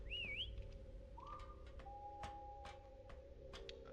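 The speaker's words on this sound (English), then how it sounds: "Oh, that whistle is close." A tonal whistle rings out in a dark horror game level, a wavering high call followed by longer steady whistled tones over a low ambient hum and scattered faint clicks.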